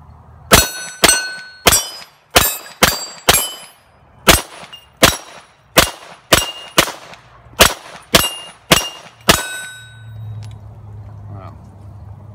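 A Glock 9mm pistol fitted with a Wilson Combat match-grade barrel fires about fifteen sharp, loud shots in a quick, fairly even string, followed by a quieter tail.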